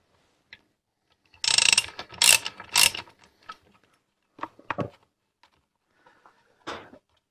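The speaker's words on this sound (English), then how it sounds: "Probably a good idea to remove the piston stop." Piston stop being unscrewed and pulled from a chainsaw's spark plug hole during clutch drum repair: several close metallic ratcheting and clicking bursts, then sparser light clicks and taps with quiet gaps.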